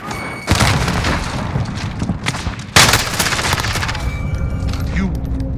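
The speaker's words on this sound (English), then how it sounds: "Throwing grenade!" A grenade blast in the Call of Duty Modern Warfare video game, Team Deathmatch mode: loud booming detonations and heavy bursts of gunfire rumble throughout, with a sharp surge near the middle over continuous battle noise.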